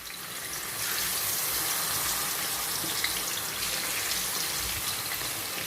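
Pangasius fish pieces go into a hot non-stick pan, setting off a loud, steady hissing sizzle that starts after a short quiet moment and holds evenly throughout.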